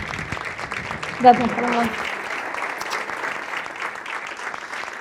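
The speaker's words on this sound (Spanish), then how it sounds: "Fuerte aplauso, por favor." Audience applause for an award presented to sportscaster Paloma del Río at an event on women's sport in the media, moderate clapping rising briefly then continuing steadily under a speaker's brief thanks.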